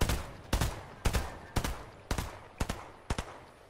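Gunfire in the video game Fortnite, with sharp shots ringing out roughly every half second in a steady rhythm, some coming as quick doubles, loud and close with no talking.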